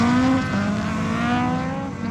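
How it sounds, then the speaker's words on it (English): Rally cars race on a track, a loud engine note climbing and shifting as a car drives hard nearby, with tires and exhaust roaring for a couple of seconds. "So cool to see all the rally cars out in action."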